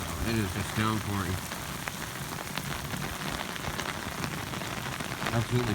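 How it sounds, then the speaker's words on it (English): Dense El Niño storm rain falls in a heavy, continuous wash of drops close by, while someone speaks briefly at the start and again at the end. "Very heavy rain."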